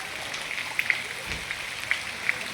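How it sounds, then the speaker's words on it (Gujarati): Light, steady rain patters on a surface nearby, soft and continuous, with a few faint sharper drip ticks scattered through it. "વરસાદ 1 કલાક છે આ ધીમો ધીમો ચાલુ છે."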